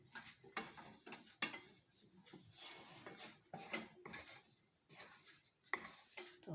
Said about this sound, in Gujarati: તો હવે જરીક આપણે વાર હલાવી લઈશું આને, એકાદી મિનિટ, એટલે બધું મિક્સ થઈ જાય એકદમ સરસ